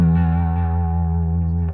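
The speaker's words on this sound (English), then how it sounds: "That distortion in the background brings in a lot of harmonic content." A sustained, buzzy bass guitar note through an EBS Billy Sheehan Signature overdrive pedal rings out steadily, thick with harmonics and a slight chorus-like shimmer, with no voices.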